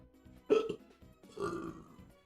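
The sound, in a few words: burping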